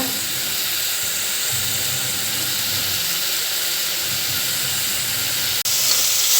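Masala sautéing in a pot for mushroom biryani gives a steady, bright sizzling hiss that continues without pause, broken only by a single sharp click near the end.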